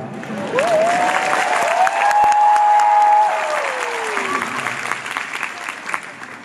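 A room full of people at a charity concert claps steadily for several seconds, the applause fading slightly toward the end, with a sustained tone ringing above it.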